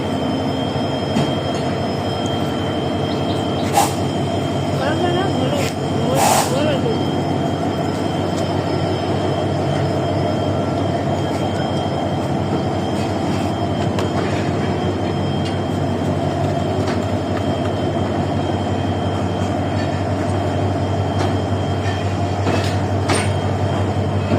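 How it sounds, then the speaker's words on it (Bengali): A train rolls by at a steady low rumble for a long stretch, with occasional metallic clanks and a faint screech over the continuous noise. "চলে গেল ট্রেন।"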